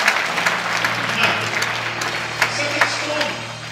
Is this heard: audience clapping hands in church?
yes